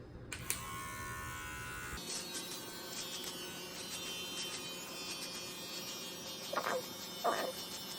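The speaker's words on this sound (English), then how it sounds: "Can't really probably hear too much with the clippers running" Electric hair clippers run with a steady buzzing drone through the whole stretch, fairly close, with a couple of brief louder scrapes near the end as the blades trim.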